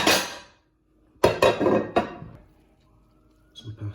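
A plate being picked up and pasta for spaghetti bolognese served onto it, giving a few close ceramic knocks and clatters separated by short pauses, followed by faint scraping.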